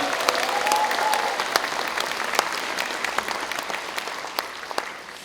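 Applause from an audience at a political book launch event in Wonju, Gangwon Province, welcoming a guest: dense, sustained clapping from a crowd with a few sharper claps standing out, steady throughout.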